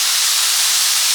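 Hot water steams loudly as boiled potatoes are drained, a close, continuous hiss of steam and pouring water with no speech.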